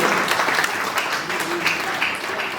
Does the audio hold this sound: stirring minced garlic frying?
no